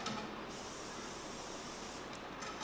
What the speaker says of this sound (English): And just give the edges a spray.